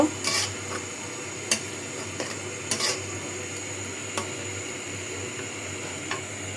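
Shrimp fry with spices in a pan for a pumpkin-shoot dish, a steady low sizzle broken by occasional sharp scrapes and clinks of a spoon stirring against the metal, close and without talk.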